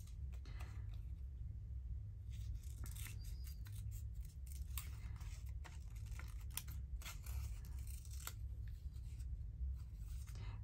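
Scissors trim paper during a craft session, a quiet, close run of rapid snipping and crisp cuts in irregular bursts with no talking.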